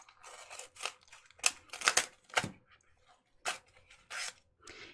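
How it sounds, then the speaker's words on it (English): Scissors snip through washi tape during card making: a quick series of close, crisp cuts and rustles, uneven in rhythm and fairly quiet. "It's easier to use scissors."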